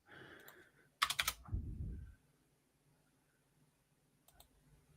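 A short flurry of computer keyboard clicks arrives quickly, together with a low thump, then the room goes quiet, leaving faint hum and a last click.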